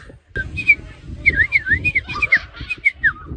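Several short, bright chirping calls repeat in quick bursts, fairly close, over low rumbling background noise and some murmuring.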